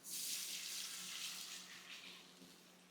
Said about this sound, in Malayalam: കുറച്ച് വെള്ളം ഒഴിക്കാവേ